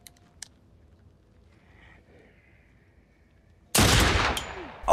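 Gunshot from a firearm, a sudden loud sharp blast that decays into a long ringing tail after a few seconds of near silence with faint background sounds.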